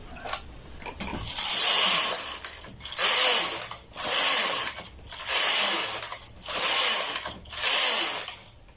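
A knitting machine carriage, worked without the comb attached, is swept back and forth across the needle bed in six regular passes about a second apart. Each pass is a loud, close, rasping mechanical whir, with short quiet gaps between.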